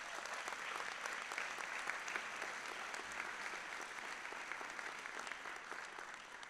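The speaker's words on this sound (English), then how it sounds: "A round of applause for them," A college convocation audience applauds steadily, dense clapping sustained at moderate distance throughout, easing slightly toward the end.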